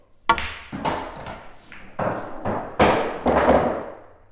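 A pool cue strikes the cue ball during a shot, followed by a run of sharp, close clacks and knocks as balls collide and hit the table, each sharp onset quickly fading.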